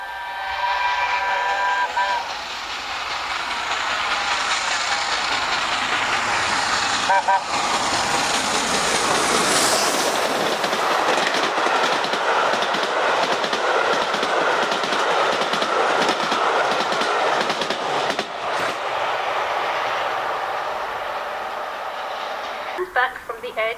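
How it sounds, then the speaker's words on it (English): A model railway recording of a Bittern locomotive train crossing wooden sleeper track, with a whistle at the start, then a long rumbling run of rhythmic clickety-clack that fades near the end. "listen again to the sounds of the train coming across the wooden sleeper track and then going into the welded track"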